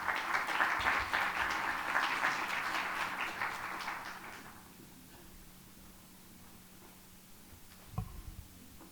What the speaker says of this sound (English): Please join me in welcoming him to the stage with a warm round of applause.